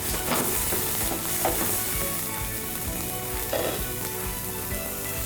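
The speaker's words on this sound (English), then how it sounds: "Just saute it" Red onion, ginger and garlic sauté in a hot pan, a dense, steady close-up sizzle with occasional stirring scrapes, continuous for several seconds without talk.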